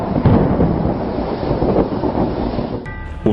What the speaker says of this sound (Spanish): Después se oyó como un estruendo de truenos y los cielos se encendieron con los rayos